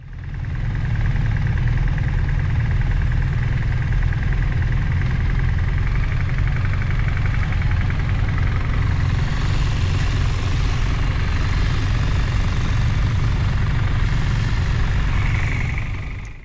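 Motorcycle engine idling steadily after being jump-started with a starter pack, a constant low rumble close by with no talking.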